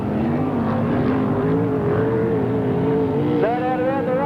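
A 1981/82 sprintcar howls around Parramatta City Raceway, its loud, steady engine drone holding close as it slides deep into a turn, with the pitch climbing sharply near the end.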